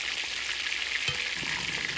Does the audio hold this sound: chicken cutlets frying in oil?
yes